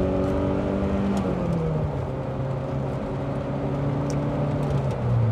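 A Saab 9000 Turbo's engine drones steadily from inside the car on a road test, its pitch sliding as it shifts and pulls through second gear, over constant road noise.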